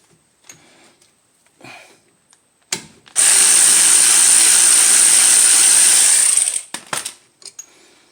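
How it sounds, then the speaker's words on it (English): Power ratchet spinning brake caliper bolts during front brake pad and rotor replacement on a 2010 Kia Soul: one loud, steady mechanical whir of about three and a half seconds, with quiet clicks and handling before and after. "To spin things up, I'm going to be using this ratchet here."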